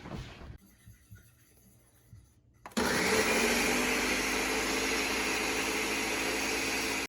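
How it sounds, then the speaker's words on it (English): Quiet clatter and bumping give way to a warm, dry blender suddenly roaring to life while making Bearnaise sauce, running at a loud, steady whir to the end. "we put that in our warm dry blender and we get that going"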